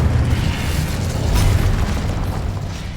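An Incendio fire spell is cast in Hogwarts Legacy, a roaring, boomy burst of flame that swells to a peak midway, then settles into a steady low rumble.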